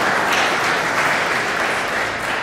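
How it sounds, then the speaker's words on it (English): Audience at a medical talk applauds, a steady, even wash of clapping from many hands that holds at a constant level from start to finish with no voices over it. "let's give Matt a round of applause for that"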